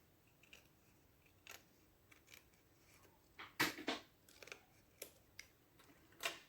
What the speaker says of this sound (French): je vais rectifier au ciseau